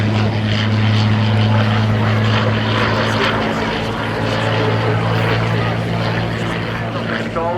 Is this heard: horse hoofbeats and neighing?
no